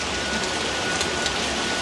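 Steady rain falls with a dense, even hiss of drops striking surfaces near a car on a road as the sky darkens, unbroken and without speech.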